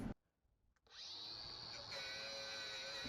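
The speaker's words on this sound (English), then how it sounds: "You can see here just how effective it is, the twist knot wheel, getting rid of surface rust." A twist knot wire wheel on a power tool strips surface rust from the underside of a BMW E28 car, a brief quiet gap giving way to a steady, loud, high whirring grind that carries on without talk.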